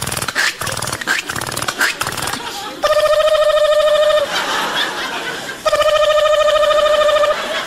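Phone keypad tones as a number is dialed, two bursts of bright repeated beeping following a stretch of laughter and chatter, loud and close.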